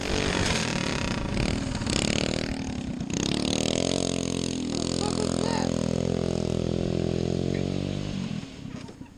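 A yard kart engine at a Derpadega race revs high and holds a buzzing, hanging RPM as its wheels spin without grip, loud and close for several seconds before dropping away at the end.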